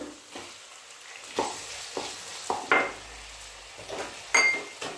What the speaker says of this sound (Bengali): ছাড়িয়ে ধুয়ে রাখা মটরশুঁটি, ভালোভাবে সব কিছু মিশিয়ে নিচ্ছি।